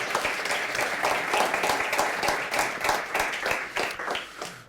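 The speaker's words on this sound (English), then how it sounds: "So a quick round of applause for John, please." Crowd applause for volunteer John at a Stockholm hardware meetup, a dense, steady wash of many hands clapping together close by, holding at an even level throughout with no voices over it.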